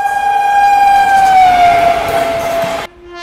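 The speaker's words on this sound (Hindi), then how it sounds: "ये रही दोस्तों भुवनेश्वर तेजस राजधानी एक्सप्रेस" The Bhubaneswar Tejas Rajdhani Express passing close by, its loud sustained horn blast sliding gradually lower in pitch, then giving way to a different tone over the rumble of the train.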